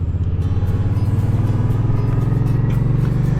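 An old 1955 car goes by close and loud, its engine giving a steady, throbbing low drone that rises slightly in pitch as it passes.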